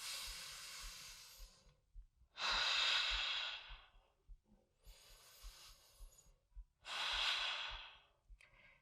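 Slow, deep breathing during a seated twisting core exercise: four long, loud airy breaths alternating in and out, close to the mic, with quiet gaps and a soft low pulse of background music.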